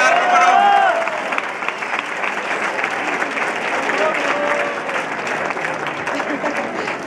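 An audience at an awards ceremony breaks into sustained applause for second place, many hands clapping densely and steadily, with a voice briefly audible near the start.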